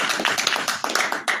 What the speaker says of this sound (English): So, please another applause for Dr.